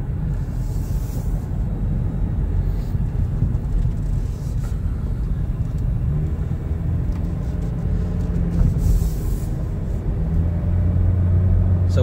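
Steady low engine rumble from a peppy vehicle accelerating from highway speed, a continuous in-cabin drone with broadband road noise that holds constant throughout without distinct gear shifts.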